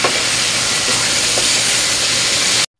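Chicken with garlic and onion sizzling in a hot pan while being stirred, a loud, continuous hiss that cuts off abruptly at the end.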